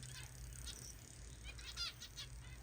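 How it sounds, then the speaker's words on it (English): Faint wingbeats flutter in a mixed finch aviary holding red-headed and blue-headed parrot finches, zebra finches and spice finches, with a few soft chirps scattered over a low steady hum. "You can see the red-headed parrot finches, zebra finches."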